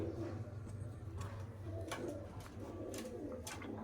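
Pigeons of a Narangarh bloodline coo softly nearby, a series of low, rolling calls repeating in uneven bursts over a faint background.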